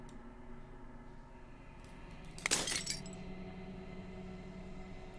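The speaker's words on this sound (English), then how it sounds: "As the final fragments of glass shatters" A brief burst of shattering glass from the video game Slay the Princess rises out of a low droning ambience, crashing for about half a second and then trailing off quickly.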